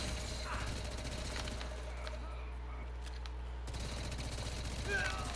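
Video game gunfire comes in a rapid burst of shots, then drops out briefly and returns amid a busy mix of other game sounds.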